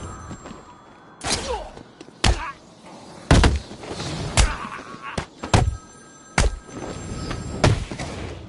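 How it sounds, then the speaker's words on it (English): Repeated ringing of a phone in Batman Arkham City during a side quest, heard as several sharp bursts spread through the clip with loud thuds and game effects between them. "Zsasz calling for Batman."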